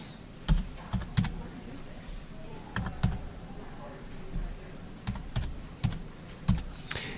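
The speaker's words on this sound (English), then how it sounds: "So type in your student ID number." Someone types a student ID number on a computer keyboard, producing short clusters of crisp key clicks separated by brief pauses, close and clear over a quiet background.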